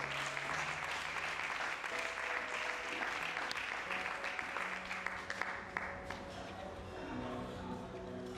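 A church congregation applauding at a French-language service, a dense sustained wash of clapping hands filling the room, with voices faintly mixed into the crowd noise throughout.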